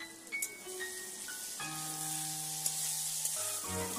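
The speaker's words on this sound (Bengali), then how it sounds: "এখন টমেটোটাকে একটু সময় নিয়ে ভেজে নেব।" Salted green tomatoes fry in a pan with a soft, continuous sizzle under faint tonal background music, staying steady throughout.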